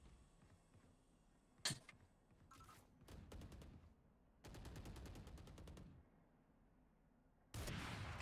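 Bursts of gunfire from the video game Valorant come in sharp rapid volleys, with a loud single shot, then stretches of fast automatic fire separated by short pauses and a final loud burst.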